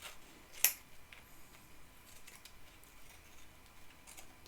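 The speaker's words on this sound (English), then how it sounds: "Why is this scissors not cutting?" Scissors snipping card while crafting journal tags, a single sharp close snip followed by faint quiet clicks and rustles in a hushed room.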